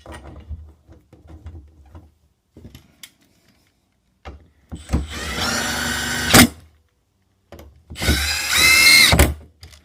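A power drill drives screws into a tool-holding fixture on a Sea-Doo 325 engine during carbon seal replacement, in two loud whirring bursts separated by quiet clinks and handling noise.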